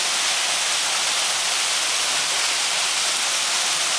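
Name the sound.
waterfall in Costa Rica, 30-foot drop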